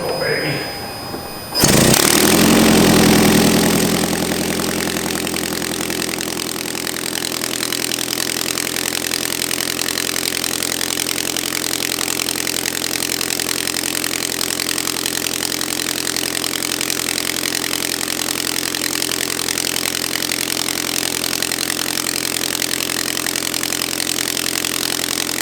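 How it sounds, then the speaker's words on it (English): A 2009 Toyota Camry Hybrid engine, flagged with hybrid system faults, cranks briefly then catches and settles into a loud, steady running drone that continues unbroken close by. "I'm gonna start the engine"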